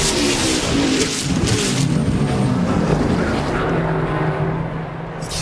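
A NASCAR Cup Series race car at Road America in 2021, suspected of a transmission or rear-end problem, roars loudly and steadily close by, then eases slightly toward the end.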